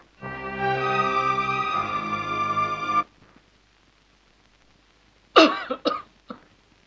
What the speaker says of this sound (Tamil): பால் மிளகு தட்டி போட்டிருக்கேன் இருமல் தனிஞ்சிடும்